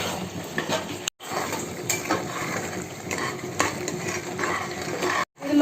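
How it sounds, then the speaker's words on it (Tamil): Curd and spice mix are sautéed together for mutton biryani, a continuous close hiss with frequent metal spoon scrapes and clinks against the pot, cut by two brief dropouts. "இப்போ இது எல்லாத்தையும் ஒன்றா சேர்த்து நம்ம வதக்கலாம்"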